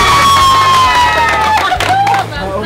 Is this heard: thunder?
no